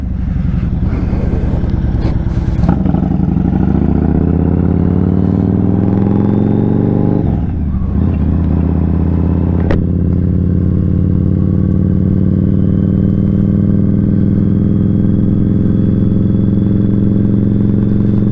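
A Yamaha Raider cruiser with a 32-degree rake, ridden with its engine still cold, gives a loud, steady, close-up drone with a rich low rumble, briefly shifting pitch around gear changes midway before settling into an even cruise.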